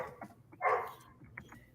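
Dogs barking nearby, a few short sharp barks with one louder yelp in the middle, set against a quiet indoor background.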